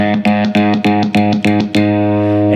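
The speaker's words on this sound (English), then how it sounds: "when I'm switch up, the guitar cuts out" Distorted electric guitar note chopped on and off rapidly by a pickup toggle switch in a stuttering rhythm, about eight quick cuts, then ringing on steadily.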